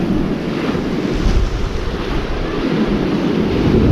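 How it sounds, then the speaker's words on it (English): Ocean waves roll in as a continuous, loud surf roar mixed with heavy wind buffeting on the microphone, steady for the full four seconds with no voices. "The waves."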